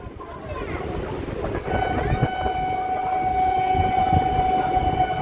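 A train pulls into Krishnanagar City Junction station toward platform four, its steady heavy rumble swelling after a quieter start and then joined by sustained high-pitched brake squeals that ring on to the end.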